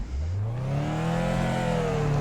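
Race car engine in the Project Cars racing simulator played in VR, revving up loudly with a rising whine as the car pulls away, close and alone without talk.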